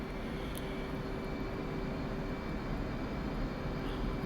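F/A-18C jet engines throttling up to about 90% before takeoff in DCS World, a steady, continuous broadband roar at moderate level with a faint high tone, no voices.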